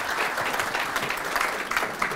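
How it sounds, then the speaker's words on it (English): An audience applauds speaker Alan after his talk on planning a simulation journey, a thick, steady round of clapping that keeps up at full strength through the whole short stretch. "let's thank Alan with a big applause"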